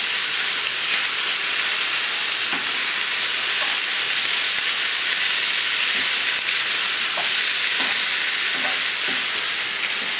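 Chicken pot pie filling being stirred in a cast iron skillet, a loud steady frying sizzle with occasional scraping and clacking from the stirring, no talking.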